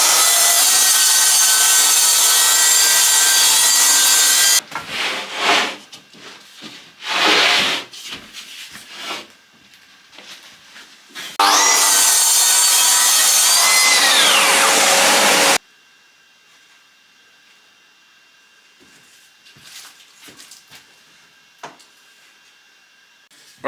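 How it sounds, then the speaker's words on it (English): A saw rips through a 9mm birch sheet in a workshop, with loud sustained cutting bursts broken by short pauses and rubbing handling noise, then stopping to near quiet. "So we're going to rip a piece now to fit inside here."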